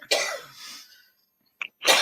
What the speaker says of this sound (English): your cough does not sound good